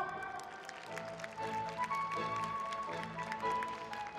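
Audience applause at a live esports final awarding the winning team of four players at a 2017 Dungeon & Fighter festival, a steady wash of clapping that runs throughout over hall music and ambient noise.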